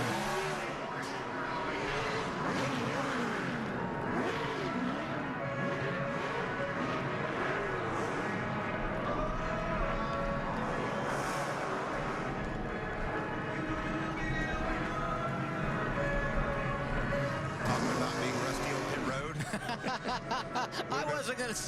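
A NASCAR Xfinity Series car revs and roars through burnouts and donuts, its engine note swinging up and down over about twenty seconds of crowd noise, with commentators talking and laughing throughout.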